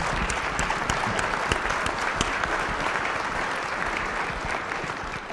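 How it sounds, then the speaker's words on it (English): Steady applause from a luncheon audience for an Industry 4.0 panel at Penn State New Kensington, dense clapping at moderate distance, holding evenly for several seconds without talk. "let's give them a round of applause for sure"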